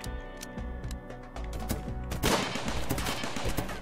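Gunfire in the video game RimWorld, with rapid rattling shots and sharp cracks dense and fairly quiet in the first part, then a louder flurry of overlapping shots in the second half, with no voices.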